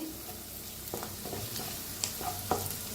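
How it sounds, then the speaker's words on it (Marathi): Half a spoon of turmeric dry-roasts in a pan over a very low gas flame, a soft, faint sizzle broken by a few scraping stirs of a spoon, close and with no talk. "हळदीला बी छान असं भाजून घेऊया."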